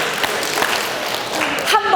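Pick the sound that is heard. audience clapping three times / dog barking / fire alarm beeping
audience clapping three times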